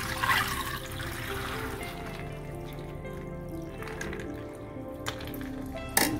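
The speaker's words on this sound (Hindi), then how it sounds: "सारा पानी निकाल देंगे हम इसको।" Dark water draining off soaked black lentils being rinsed for dal makhani, a soft continuous trickle and pour with a few small splashes and knocks near the end.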